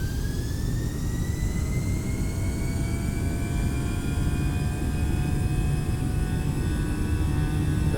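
Airbus A319 engines spool up to full TOGA takeoff thrust in Microsoft Flight Simulator, a loud steady jet roar with rising whine tones that climb in pitch over several seconds, continuous and alone.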